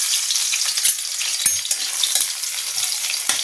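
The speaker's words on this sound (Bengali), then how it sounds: "তেল গরম হয়ে গেছে, এই সময় রসুনগুলো দিয়ে দেবো।" Crushed garlic dropped into hot oil, giving a loud, dense, continuous sizzle and crackle up close, with a few faint knocks underneath.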